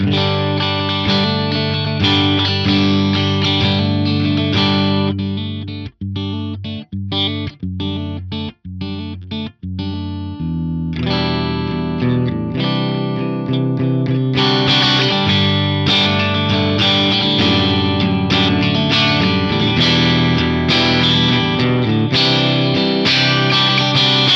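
Electric guitar played through a Fractal FM3 modelling the Cygnus amp, fed digitally to an audio interface, loud and continuous with driven, distorted chords and a stretch of short choppy staccato hits, no talking.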